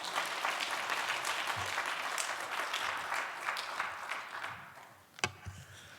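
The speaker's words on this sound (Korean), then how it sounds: "우리 목사님이 나오실 때 큰 박수로 환영하겠습니다" A church congregation claps warmly as the pastor comes forward, continuous applause that thins out near the end before a final sharp knock.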